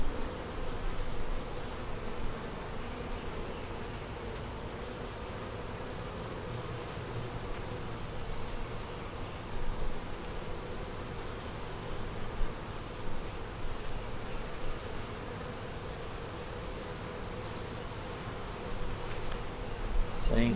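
Honey bees buzz steadily and densely throughout a double deep 8 frame hive inspection, a continuous close droning swarm sound with no talking.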